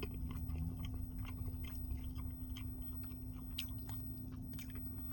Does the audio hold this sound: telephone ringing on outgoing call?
no